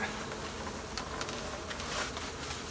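Honeybees from a healthy colony buzz steadily around an opened hive during a spring hive inspection, a dense close drone that holds at an even level with no voices.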